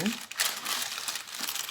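Greaseproof paper crinkles and rustles as it is pressed into a loaf tin while banana bread is prepared, a close, continuous crackling lasting under two seconds.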